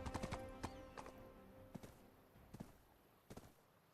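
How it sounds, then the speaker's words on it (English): Horse hooves clip-clopping in the video game Black Desert Online, a quiet series of separate hoofbeats in an uneven walking rhythm, heard alone without talk. "Wish my horse would auto use a sprint, but it don't ever want to."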